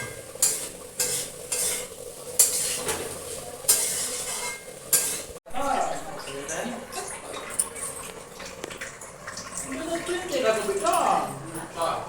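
Food being stirred with turmeric and salt in a pan, scraping and sizzling steadily at close range while people talk over it throughout.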